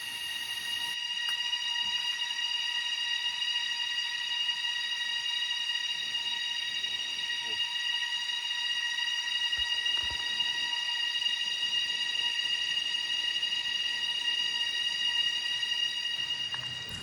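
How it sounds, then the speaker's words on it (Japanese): Dense jungle ambience in a national park on Sulawesi, with steady high-pitched insect buzzing in several layered tones, loud and continuous throughout, over a low rustling background. "ジャングルの中は音で溢れてます。"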